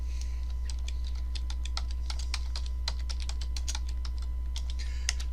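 Fingers type on a computer keyboard in a quick, irregular run of light clicking keystrokes over a steady low electrical hum.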